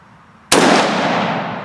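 A single loud shot from a Ruger Mini-14 rifle at an outdoor target range: one abrupt, sharp crack breaks the quiet, followed by a long ringing echo that slowly fades.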